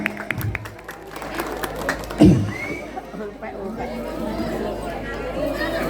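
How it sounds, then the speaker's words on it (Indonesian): Listeners at a mosque gathering break into scattered applause for about two seconds, followed by crowd chatter and a speaker's voice, with a loud bump mid-clip. "Tepuk tangan."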